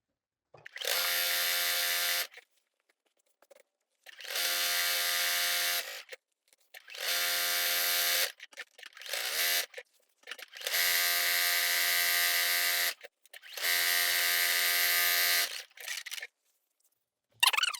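A sewing machine top-stitches around the edges of a blackout curtain in six bursts of steady, buzzing stitching separated by short pauses, close and clear.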